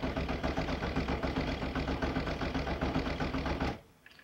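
A Mk2 Golf VR6 engine cranks over steadily with a fast rhythmic churn for several seconds, then stops abruptly, leaving quiet.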